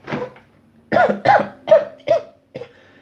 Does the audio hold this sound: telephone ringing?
no